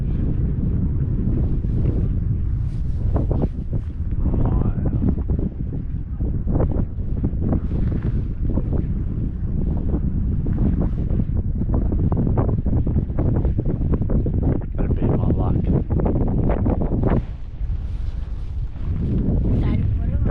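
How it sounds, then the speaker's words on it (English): Steady, loud wind buffets the microphone on a fishing boat at sea. It roars without a break for the whole stretch. "That wind's still a bit cold, but yeah, beautiful day."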